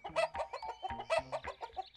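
Chickens cluck in a quick, busy series of short, near calls, several birds overlapping with brief pauses between bursts.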